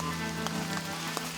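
Steady rain patters on surfaces outdoors on a rainy mountain day, a continuous soft hiss with scattered heavier drops and no talk.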